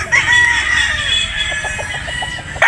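Gamefowl broodstag roosters on a game farm in Batangas give a run of close, steady clucks and soft calls, with no talk over them.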